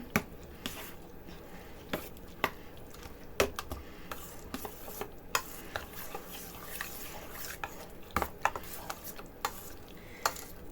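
A spoon stirs a mixture with garlic in a bowl, giving soft repeated scrapes and light clinks against the bowl, close and fairly quiet, with no talking.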